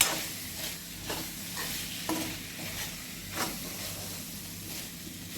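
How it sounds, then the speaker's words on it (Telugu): Jackfruit curry with garam masala is stirred in a pan, a soft continuous sizzle broken by several scraping strokes of the spoon at roughly one-second intervals. "కొద్దిగా గరం మసాలా వేసి ఇప్పుడు ఒకసారి కలుపుదాం"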